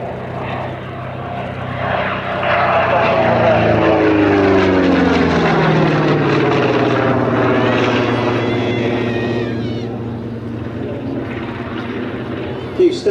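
A P-47 propeller fighter flies past at an airshow, its loud engine drone swelling and then fading over about thirteen seconds with a sweeping pitch change, while a voice talks over it.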